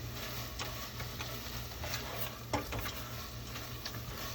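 A rubber spatula stirring risotto in a pan, with soft scraping and occasional light taps against the pot over a low hum, faint and close.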